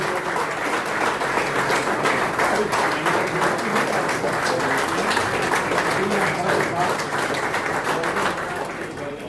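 Sustained thunderous applause from an audience filling an auditorium at a formal industry event, dense continuous clapping that holds steady for several seconds before easing slightly, with voices mixed in.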